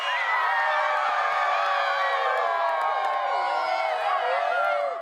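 Primary school students in Perth cheer for a cyclist racing at the Games, a dense, loud and continuous wash of high children's voices shouting and whooping together.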